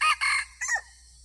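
A rooster crows nearby, a short bright call in two bursts followed by a brief trailing note, with no other sounds.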